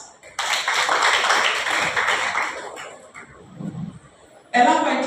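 A group of people in a classroom safety and self-defense session claps hands together in a dense burst of applause, then it fades, with voices and a short loud sound near the end.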